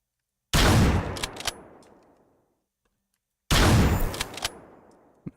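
Two loud sniper rifle shots in a video game, about three seconds apart, each a sharp blast with a long fading echo and metallic clinks after it, and no talking.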